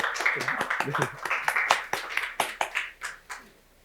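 Church congregation during a Sunday worship service gives a short round of clapping, with distinct individual claps and scattered voices over it, tapering to a few sharp final claps and then quiet.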